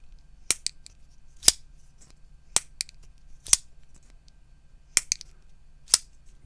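A tungsten carbide folding knife blade snaps shut repeatedly, giving sharp, bright metallic clicks about once a second, some doubled, close up and fairly quiet against silence.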